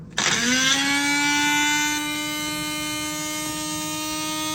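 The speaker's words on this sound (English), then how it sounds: "I'm going to run the blender," A blender powered by an ALLPOWERS S300 PLUS portable power station spins up with a sharp whine and runs steadily with no load, a high-pitched electric hum that settles slightly lower after a couple of seconds.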